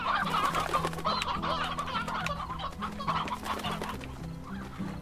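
Chickens cluck steadily in the farm video game Slime Rancher, several birds overlapping in a busy, continuous chorus close by with no talking.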